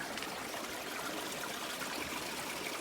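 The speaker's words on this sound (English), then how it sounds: "we have this little bitty trickle of water that then disappeared right up into the rocks" A small trickle of water runs down and disappears into rocks on a winter backpacking trip, giving a steady, soft, close burbling flow without break.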